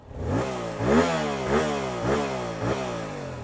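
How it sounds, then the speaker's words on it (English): Yamaha R7 motorcycle engine as the clutch is released and throttle applied, with a series of rising revs in repeated pulses, each pitch climbing then dropping back, heard fairly close and alone. "We're going to release the clutch and put the throttle on."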